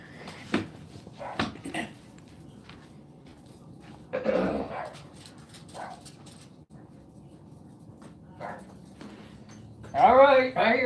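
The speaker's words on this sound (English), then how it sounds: "Okay, I've got another dog out there. Hold on. He's telling me it's time to come in." A dog outdoors in the cold barks to be let back inside, a few scattered barks and whimpers spread across the stretch with a louder burst near the end, while someone talks over it.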